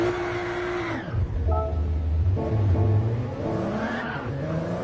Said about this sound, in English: He's absolutely smashed up the car.